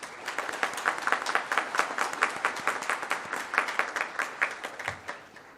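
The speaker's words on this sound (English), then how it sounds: "Please give them a huge round of applause." An auditorium audience at a corporate mobility and energy event applauds panel guests, a sustained, even wash of many hands clapping, fairly close and steady.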